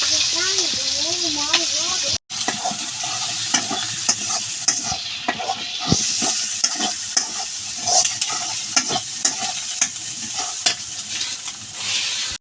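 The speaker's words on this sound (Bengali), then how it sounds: "আমি তেলের মধ্যে পেঁয়াজ কাঁচামরিচ দিয়ে আধা ভাজা করি" Sliced onions and green chillies half-fry in hot oil: a continuous sizzle with repeated scraping stirring strokes from a spatula in the pan, loud and close throughout.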